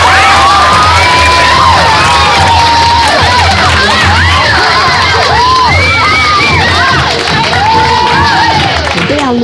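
A huge carnival crowd cheers, shouts and whistles for the Mocidade samba school's 1996 championship, a dense, continuous roar at full volume with high shrieks rising above it.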